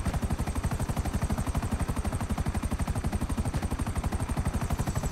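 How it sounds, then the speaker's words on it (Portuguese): A team helicopter in GTA Online thumps with rapid, steady rotor beats, a loud, close, evenly pulsing chop that runs without pause and with no talking over it. "Eu vou de helicóptero, spawnou o helicóptero da equipe aqui."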